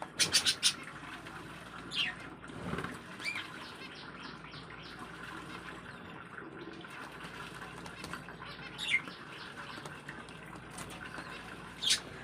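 Scattered high chirps from caged budgerigars and finches, a few sharp bursts standing out over a steady low rustling background.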